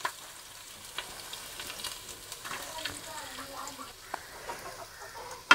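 Mustard and fenugreek seeds splutter in hot oil for a Kerala-style fish head curry, giving quiet, scattered crackles and pops over a soft background sizzle.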